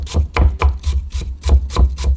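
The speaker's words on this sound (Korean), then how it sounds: "최대한 얇게 편을 떠서 채를 썬 다음에 살짝 다져줄 거예요" A kitchen knife chops thinly sliced, julienned potato on a cutting board in a steady series of about nine firm, close thuds with brief gaps between strokes.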